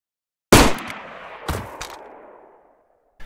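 A Magnum revolver fired in the survival game DayZ: one sharp, loud shot that rings out and decays over about two seconds, with a second, softer crack partway through the tail and another faint report at the very end.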